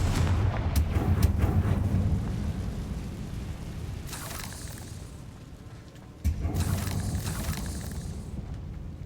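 Confringo fire spell blasts in Hogwarts Legacy, a loud, steady low rumble with two sharp bursts partway through, the second striking hard and sustaining.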